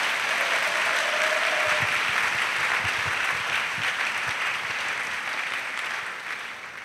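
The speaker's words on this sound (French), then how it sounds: "Clap offering for Jesus Christ." Congregation clapping in a church, a sustained loud round of many hands with a few low thumps partway through, fading slightly toward the end.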